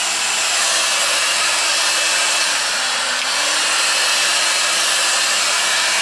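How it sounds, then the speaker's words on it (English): A hair dryer blows steadily and loudly at close range, drying a handmade slip collar for gundog training, with a continuous airy roar and a brief dip in pitch partway through. "I'm just going to use my hair dryer."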